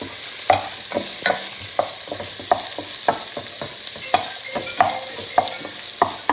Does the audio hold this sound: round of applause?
no